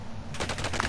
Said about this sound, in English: Ah, okay, I'm getting shot.